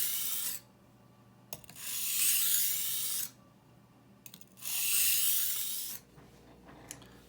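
A kitchen knife blade is drawn across a whetstone in long, raspy strokes, two sustained grinding passes separated by quiet pauses and brief scrapes, close and clear as sharpening moves through finer grits.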